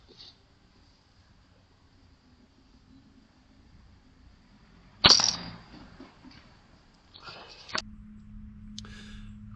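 A single sharp gunshot from an air rifle or similar gun fired from a hide at a grey squirrel sitting on a roof, sounding close and loud against a quiet background, followed by fainter rustling and a low steady hum.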